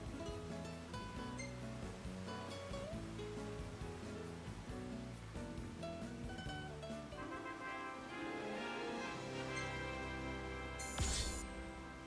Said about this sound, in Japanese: 滝の音がする。